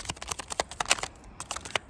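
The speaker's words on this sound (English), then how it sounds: "A lot of shuffling." Tarot cards are shuffled close up, a quick irregular run of soft riffling clicks and taps, quiet and with no voices.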